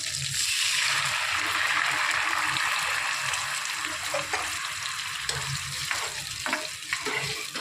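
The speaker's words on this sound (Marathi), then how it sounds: "आणि या फोडणीमध्ये मी दही टाकत आहे आता." Curd poured into a hot tempering of oil with curry leaves in a pan for curd rice, giving a steady loud sizzle and crackle with a few stirring clinks, no voices.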